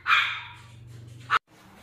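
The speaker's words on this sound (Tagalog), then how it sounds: "may tumatahol na naman." Female black pug barking: one loud, sharp bark at the start and a second short bark near the end, close up, with a low steady hum running underneath.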